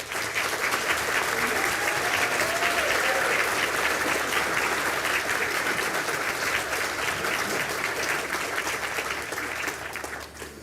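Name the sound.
applause for Master of Science graduates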